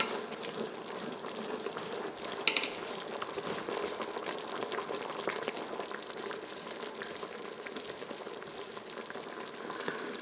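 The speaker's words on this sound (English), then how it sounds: "But I find that on this Starfrit, saute mode is the best way to do thickening of sauces." Balsamic glaze bubbles and sizzles as it thickens in a Starfrit pressure cooker on saute mode, a steady close simmering hiss with faint pops and an occasional stir, and no talking.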